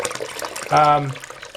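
Lukewarm water pours from the drain of a hot water tank in a brief, steady gush that swells for about half a second, with a voice speaking around it.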